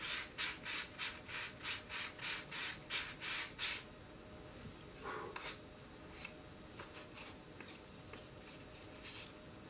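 Rhythmic sanding strokes on balsa wood parts rasp back and forth about nine times in quick succession, then quieter, scattered scraping and light taps follow, close up.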